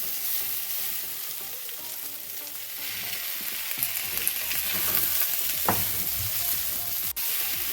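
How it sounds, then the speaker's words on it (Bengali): Cauliflower florets sizzle in fried spice paste of chilli, ginger and cumin, a steady loud frying hiss with scraping stir strokes throughout and one sharper sizzle burst near the end; no talking. "মশলাটা আমার ভাজা হয়ে গেছে। এবারে আমি এর মধ্যে ফুলকপিটা দিয়ে দেব।"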